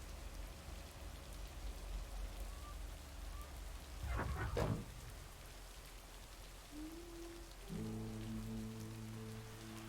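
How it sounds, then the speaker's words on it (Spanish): Rain falls steadily in the video game Lake, a soft, continuous patter behind a brief louder burst, with a faint tonal sound near the end. "Está lloviendo."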